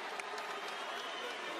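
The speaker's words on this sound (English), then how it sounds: "can we give a round of applause for Andy Ruiz" Crowd applauding the new heavyweight champion Andy Ruiz after his knockout win over Joshua, a steady wash of distant clapping and cheering that fills the whole moment without a break.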